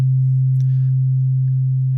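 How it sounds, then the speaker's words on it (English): A loud, steady, low sine-wave tone plays under compression in Ableton Live, holding level throughout with only faint clicks above it. "And the sine wave is going to get quiet."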